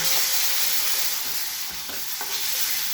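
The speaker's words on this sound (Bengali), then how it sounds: "পেঁয়াজটা হালকা লাল কালার আসছে, এখন দেব কিছু রসুন বাটা।" Onion frying in hot oil, lightly browned, with garlic paste going in, a loud steady sizzle with occasional stirring scrapes.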